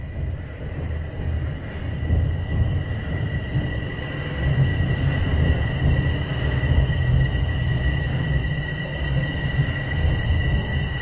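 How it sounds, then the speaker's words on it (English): A Toronto Line 4 Sheppard subway train rumbles steadily into an underground station, with low-frequency roar and a sustained metallic high whine over it, loud and continuous throughout. "And I hear a train, so let's head on down."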